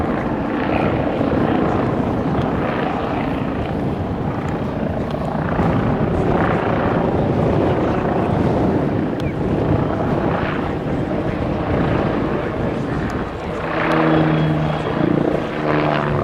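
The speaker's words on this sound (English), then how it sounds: "And the Bull 105 will gyrate around its tail rotor." A Bo 105 helicopter gyrates around its tail rotor during an air show display at RIAT 2015. Loud, continuous rotor and engine roar fills the whole stretch, with wind buffeting the microphone.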